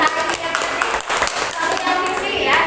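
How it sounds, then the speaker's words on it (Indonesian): Classroom group applause for a student group, brisk clapping from a small crowd of students lasting a few seconds, with children's voices mixed in. "kita kasih tepuk tangan untuk kelompok"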